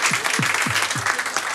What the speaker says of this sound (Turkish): Fekare'yi de bir alkışlayalım ama.